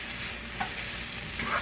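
Ground chuck patties frying in a pan over medium-high heat give a steady, close, broadband sizzle with faint crackles, continuous and alone with no talking.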